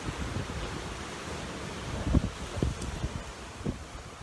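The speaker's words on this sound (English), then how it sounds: "like I said, it's very, very windy" Strong wind blows by the sea on the Costa del Azahar in Spain, a close, rough rumbling buffet with gusty thumps against the microphone.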